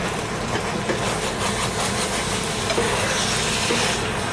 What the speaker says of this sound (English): turn that down on low and just let her simmer